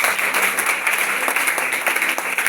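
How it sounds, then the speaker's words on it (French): A church congregation applauding and clapping together, a dense, loud and continuous wash of many hands that carries on without a break, with faint voices mixed in underneath. "Donc acclame pour ton voisin."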